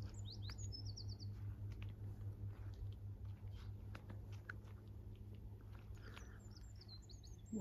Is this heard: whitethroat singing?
yes